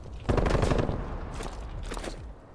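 A short burst of machine gun fire from a hostile sentry turret in a shooter game, rattling loudly and then trailing off into softer scattered shots.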